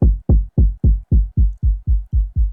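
A drum beat from MPC Beats with its low-pass filter turned down, giving ten muffled, bass-heavy thumps in an even, quick pulse, loud and alone.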